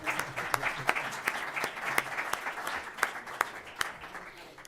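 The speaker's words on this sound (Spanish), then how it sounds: "Un aplauso para Micaela." A conference audience at an energy sustainability event applauds, a soft, fairly distant patter of many hands with sharper individual claps popping out at irregular moments, no talk over it.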